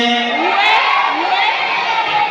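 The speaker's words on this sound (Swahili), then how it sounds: "Kelele ya pili kwa wapendanao yake." Loud crowd cheering and shouting at an entrepreneurs' event, a dense continuous roar of many voices with high whoops rising through it.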